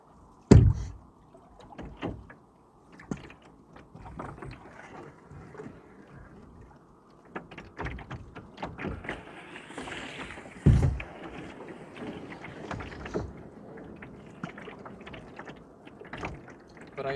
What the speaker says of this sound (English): Paddle, splush. Paddle, splush. That's soothing to listen to.